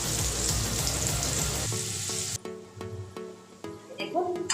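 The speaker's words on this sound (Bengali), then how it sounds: "মিডিয়াম করে আলুগুলোকে একটু ভেজে নিই" Potato pieces frying in hot oil make a dense, loud sizzle for about two and a half seconds, which then cuts off abruptly and gives way to a voice speaking over a quiet background.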